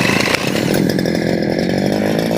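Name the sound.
petrol grass cutter engine being started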